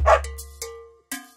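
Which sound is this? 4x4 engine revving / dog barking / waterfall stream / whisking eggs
dog barking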